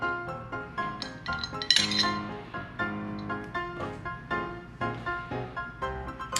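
Olives drop into a martini glass during cocktail preparation, giving light glassy clinks, with one brighter clink near the middle among softer repeated taps.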